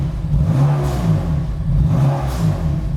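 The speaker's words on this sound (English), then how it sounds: "I'll just give it a couple light revs." A BMW engine with its exhaust valve open gives a couple of light revs, a loud, close low-pitched rumble rising and falling twice over a steady idle.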